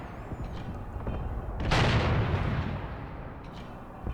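Heavy artillery guns in Graviteam Tactics, a WWII tactical war game, fire one loud booming shot at mid-clip, followed by a long rumbling decay over a low background of battle ambience.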